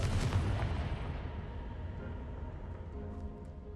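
A Confringo spell explodes in Hogwarts Legacy: one heavy, booming blast with a low rumble that fades away over a few seconds, alone with no voices.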